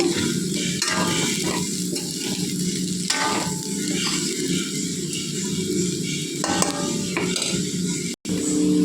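Raw plantain slices frying in oil in a pan give a steady, loud sizzle throughout, with occasional scraping stirs of a spatula against the pan.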